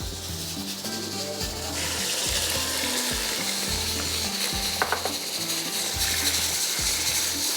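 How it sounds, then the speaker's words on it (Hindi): Chicken frying in garlic in a pan on the stove, a steady close sizzle with a busy, crackling texture running throughout and no talking. "यहाँ पर हमने लहसुन रख दिया फ्राई करने के लिए"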